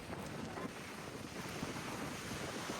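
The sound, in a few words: strong wind at the seaside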